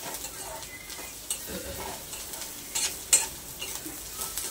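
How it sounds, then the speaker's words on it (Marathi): Whole spices roasting with onion in a pan for a spicy egg curry give a soft, steady sizzle close by, with a few spatula scrapes and light clinks scattered through and no voices. "1 मिनिटासाठी कांद्याबरोबर आपल्याला हे सगळे खडे मसाले भाजून घ्यायचे आहेत।"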